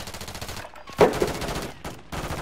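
Gunfire in the Warzone Resurgence video game on PS4, a sharp burst of shots standing out over steady game ambience, fairly close and loud.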